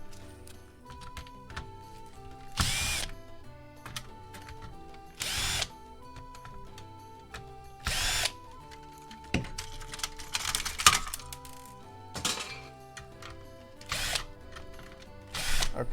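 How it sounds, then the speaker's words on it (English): A power drill unscrews a Nintendo Wii console during a teardown, short close bursts of whirring motor at irregular intervals, with small clicks and rattles of screws and plastic parts between them. "Okay, I'm a big fan of the drill. I need to use this more."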